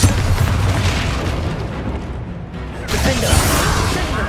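Bombarda explosion spell in Hogwarts Legacy: a loud, sustained booming blast rumbling for a couple of seconds, briefly easing, then a second forceful burst with crackling debris.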